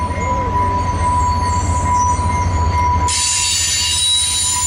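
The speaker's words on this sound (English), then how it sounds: "Listen to them flangers squeaking." Wheel flanges of a Utah Transit Authority commuter train squealing on the rails, a loud sustained high-pitched screech over the rumble of the moving cars, rising to a brighter, harsher squeal partway through.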